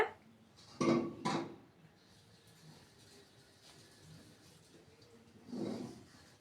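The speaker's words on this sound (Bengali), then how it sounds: "এভাবে নাড়াচাড়া করে বেশ কিছুক্ষণ কষে নেব। অনবরত নাড়াচাড়া করতে হবে।" A spatula stirs and fries soybean curry in a pan. There are a few distinct scraping clatters early on, then quieter stirring, and one more soft scrape near the end.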